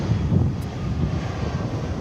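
An American Airlines Airbus A319 arrives at DFW airport, a continuous broad jet engine roar with wind rumble, steady and fairly loud, with no voices.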